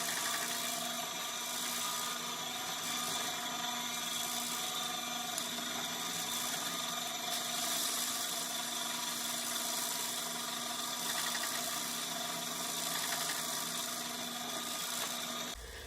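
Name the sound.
bench drill with cheap hole saw cutting wood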